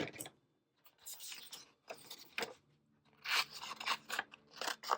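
Scissors snip through paper in short, close bursts with gaps between cuts, crunching and clicking at the blades, with no talk over the cutting.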